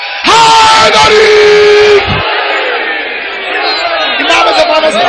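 At a religious majlis, a large crowd shouts the Nara-e-Haidari slogan in loud, sustained unison. The first long collective cry is followed by a second, swelling shout.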